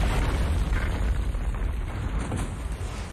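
An explosion in The Hunger Games film, a deep sustained rumbling blast with heavy low-end roar, loud and close, fading slightly toward the end.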